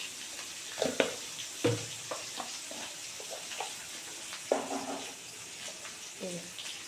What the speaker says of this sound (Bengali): দিয়ে এবার এটাকে খুব ভালো করে ভাজতে হবে।